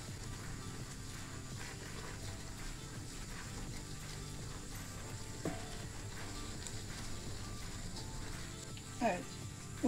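Flour roasts in a pan for a baked pasta sauce, giving a soft, steady sizzle and light stirring scrapes, quiet and continuous throughout, with occasional small clinks.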